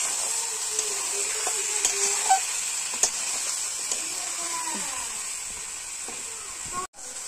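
Meat roasting in a pot for a Bengali-style meat roast, a steady sizzle and hiss running throughout with occasional scraping stirs, close and fairly loud, and no talking.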